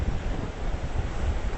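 Atlantic Ocean waves crash against the rocks of a jetty at Ponce Inlet, Florida, a steady, dense rush of surf with wind buffeting the microphone, with no voices.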